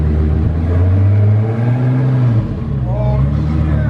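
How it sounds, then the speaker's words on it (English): A cheap Lamborghini built to 2000 hp gives a short first rev, its engine rising in pitch then falling back to a rumbling idle, loud and close, with people talking over it. "Very small rev, first rev."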